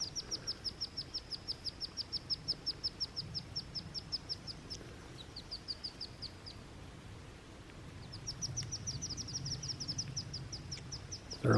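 Baby wild turkeys on a forest trail give rapid, high, thin peeping calls in quick repeated series, fairly faint and at a distance, with a pause before the calling resumes.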